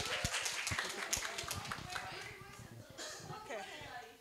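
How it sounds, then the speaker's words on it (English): A student group in a summer course classroom gets a short burst of scattered clapping, mixed with children's chatter and voices overlapping throughout. "Let's give applause."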